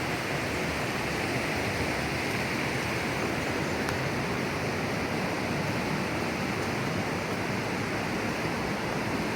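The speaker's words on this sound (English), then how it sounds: "There's water coming out from under there" Spring water gushes out from under limestone in the Missouri Ozark karst, a steady, broadband rushing roar close by, constant and unbroken, with no voices over it.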